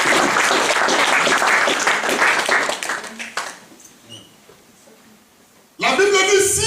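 Church congregation applauding and cheering to acclaim the Lord during a sermon, a dense burst of clapping that fades to near silence before a loud voice returns.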